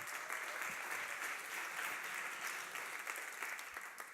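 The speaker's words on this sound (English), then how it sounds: "give yourselves a round of applause" Sustained applause from an audience at a talk, a dense even wash of clapping lasting the whole stretch without break.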